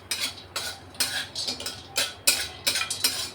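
Turmeric and asafoetida stir-fried in a pan while making Kolhapuri masala, with a spoon scraping and clinking against the pan in repeated, fairly regular strokes, close and distinct, with no talking.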